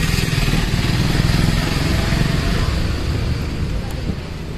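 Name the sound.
TVS iQube S electric scooter riding in eco mode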